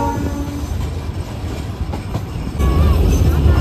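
Darjeeling toy train rolling past the doorways of houses on a hill line, a steady close rumble of wheels and carriage noise that swells louder near the end, with faint voices underneath.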